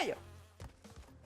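Buzzing bees in Crash Bandicoot 2, a brief insect-like drone that fades quickly, followed by short game sound effects.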